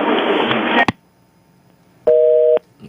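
A phone line drops out with a burst of harsh dial noise, a short click, silence, then a clear steady two-tone beep of about half a second, loud and alone on a radio call-in line.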